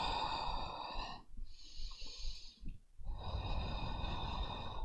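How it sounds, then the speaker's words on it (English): Deep, slow breaths during a hip-stretching fitness class: two long, audible breathy stretches separated by a quieter pause, close and fairly soft, with no talking. "Some deep breaths."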